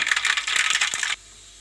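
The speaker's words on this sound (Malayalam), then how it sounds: "അതിനുവേണ്ടി നമ്മൾ എണ്ണ ചൂടാകാൻ വെച്ചിട്ടുണ്ട്. ചൂടായിട്ടുണ്ട്. അതിനകത്തിലോട്ട് ആദ്യം കടുക്," Mustard seeds hit hot oil in a pan on a wood-fired stove, giving a loud, dense crackle and sizzle with a few sharp pops, close by, cutting off abruptly after about a second.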